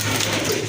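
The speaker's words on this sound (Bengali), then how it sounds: "অনেক বড় সাইজের এক জোড়া কবুতর।" A large pair of pigeons gives a brief, low, throaty coo against a steady low hum.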